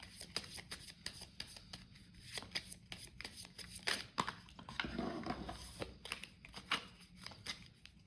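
Oracle cards being shuffled and drawn by hand for a reunion tarot reading, a steady run of soft riffling and slapping card sounds, close and fairly quiet, with no talking.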